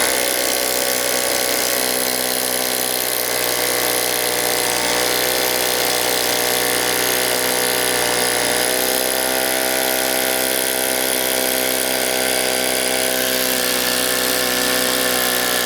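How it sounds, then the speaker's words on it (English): A Ryobi ONE+ 1-inch SDS-Plus rotary hammer bores a 1/4 inch hole into hard 5,000 PSI concrete, giving a loud, continuous hammering whine with a dense rattling drive that runs steadily without bogging down, close up and with no speech. "Drilling our first hole."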